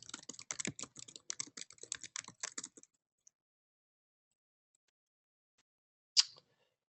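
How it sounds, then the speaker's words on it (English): Quick keystrokes on a computer keyboard during an online meeting, a close burst of typing for about three seconds, then near silence broken by one sharp click at the end. "Let me just type here."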